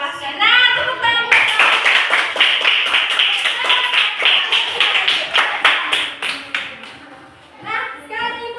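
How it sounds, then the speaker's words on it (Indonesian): Classroom applause as children clap their hands together in a burst of quick, uneven claps lasting several seconds, with young voices and a woman's speech before and after the clapping. "Nah, tepuk tangan."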